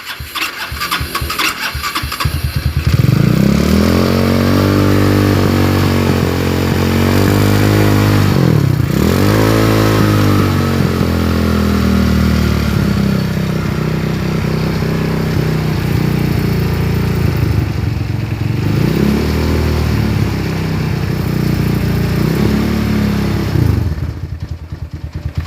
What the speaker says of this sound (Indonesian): dan sekarang kita matikan mesinnya dulu ya, kita matikan